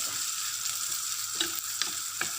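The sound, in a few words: hotdog frying and browning in a pan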